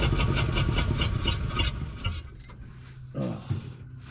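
A barn-find 1947 Ford coupe's flathead V8 runs after sitting 15 years with a stuck carburetor float, a loud, rough, pulsing idle close by that drops off partway, then sputters and catches again.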